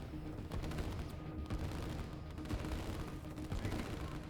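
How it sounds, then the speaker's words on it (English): Artillery fires in Line War, a distant, low rumble of dull thuds and crackling bursts that run on without pause under a steady wash of battle noise, fairly faint overall. "And now the one artillery piece in the defensive line opens up."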